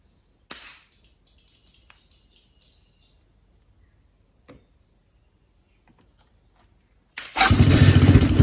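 A drowned buggy engine is silent for a long stretch after a few clicks and taps, then starts abruptly near the end and runs with a loud, steady rumble.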